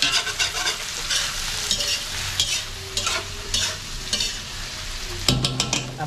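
Chop suey with squid balls and shrimp stir-fried in a pan, a constant loud sizzle broken by rhythmic scraping and tossing strokes, with a louder clatter near the end.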